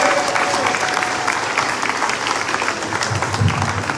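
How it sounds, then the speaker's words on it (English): Audience applause at a community event, a steady wash of many hands clapping at moderate volume throughout, with faint crowd murmur beneath. "So one more round of applause for them."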